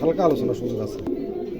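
A pair of fancy pigeons coos softly, a low burbling call heard under someone talking close by.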